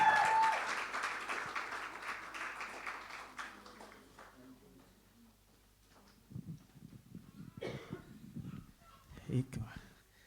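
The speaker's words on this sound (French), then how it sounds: "on lui fait une acclamation digne de ce nom" A church congregation at a special Christmas Sunday service applauds a visiting pastor; the clapping is fairly faint and soon tapers off, followed by a few soft knocks and murmurs.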